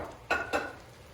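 Veal shanks for osso buco browning in a hot pan give a faint sizzle, broken by two short scraping clatters as the pieces are turned.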